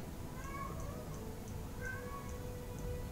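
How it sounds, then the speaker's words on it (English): A house cat meows faintly a couple of times in a quiet room, with short plaintive cries spaced out over a steady low background hum. "I hope you guys can hear my cat. It's just throwing a tantrum because it's a cat."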